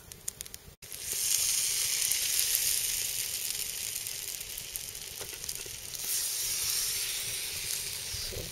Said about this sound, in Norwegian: En sånn bålvaffeljern.